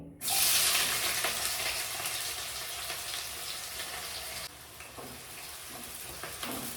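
Sliced onions, one and a half of them, hit a hot pan for chicken curry and burst into a loud, close sizzle that settles into a steady frying hiss, dropping slightly in level partway through.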